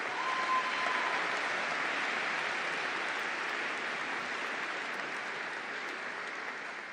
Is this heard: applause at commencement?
yes